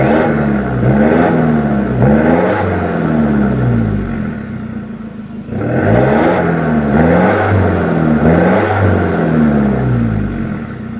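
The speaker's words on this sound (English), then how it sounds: "Then we also have an HKS side exit twin carbon fiber exhaust system here, which I'm sure you guys would love to hear" Ford Ranger Wildtrak revving through an HKS side-exit twin carbon fiber exhaust, a throaty, rumbling note in two close bursts of repeated rising and falling revs, with a short dip between them and no talk.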